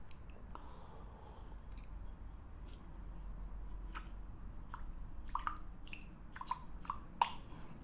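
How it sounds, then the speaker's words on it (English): Water squirted from a mouth over a glass of water, heard as a series of faint, close wet squishes and sputters growing more frequent toward the end, over quiet background hiss. "get a mouthful of water and squirt the water as far as you can"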